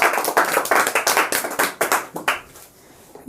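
Classroom clapping during a Bihar Board Class 10 quiz session, a group of students clapping in a quick rhythmic burst of sharp, close claps that taper off and stop after about two and a half seconds.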